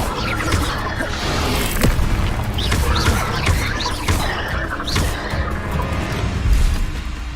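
Incendio fire spell cast in Hogwarts Legacy on PS5, heard as sharp whooshing bursts and crashing impacts amid continuous busy combat noise.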